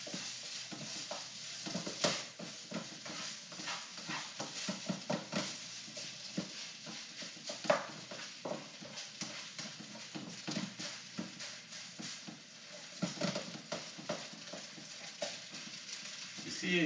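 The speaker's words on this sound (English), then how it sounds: "We're just going to mix it around here." Duck fried rice is stirred and tossed in a pan, giving irregular scraping and clattering strokes over a soft sizzle, fairly quiet throughout.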